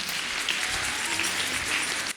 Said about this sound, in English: I beg clap for Jesus.